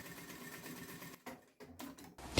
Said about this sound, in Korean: 이 역진 레버를 아래로 이렇게 눌러서 되돌아받기를 할 수 있고